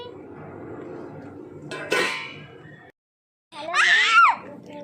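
A child screams loudly in two sharp bursts, separated by a brief silence, in a home kitchen where popcorn is being popped in ghee in a pan covered with a plate.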